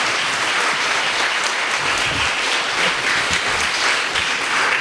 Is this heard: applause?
yes